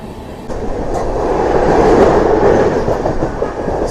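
Coromandel Express rolling through a station it does not stop at, a steady rumble of wheels and carriages with faint rhythmic clatter, swelling slightly midway and holding loud and continuous throughout.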